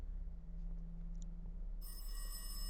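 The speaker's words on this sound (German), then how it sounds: "Telefon." A telephone in the video game Welcome to Kowloon starts ringing partway through, a bright electronic trill that comes in over a steady low hum and stays loud to the end, with no talk.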